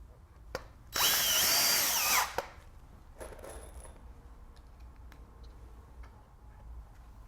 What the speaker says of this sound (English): So we'll go ahead and sink a couple of screws here.